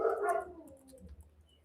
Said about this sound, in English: I might actually see what the dogs are barking at because that sounds a little more serious.